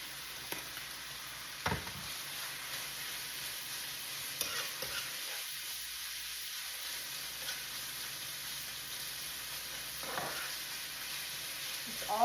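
Stuffed pepper filling of ground meat with Italian seasoning and garlic powder browns in a pan, giving a steady soft sizzle with occasional scraping stirs, no talking.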